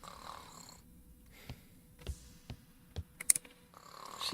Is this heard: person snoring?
yes